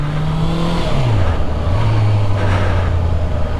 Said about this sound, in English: I'm just going to blip the throttle a few times